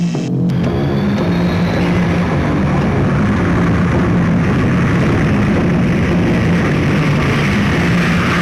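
A spacecraft comes in to land with a loud, continuous roar of engine thrust and a sharp crackle at the start, rumbling steadily throughout.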